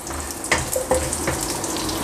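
Cubed carrots sauté with browned garlic in a pan for chicken Manchurian, a soft steady sizzle with a few clinks and stirring knocks, fairly close.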